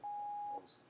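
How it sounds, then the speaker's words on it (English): A censor beep sound effect from a video-editing extension gives one loud, steady pure tone lasting about half a second, followed by faint room noise. "It drops the volume, adds this little graphic effect and the beep"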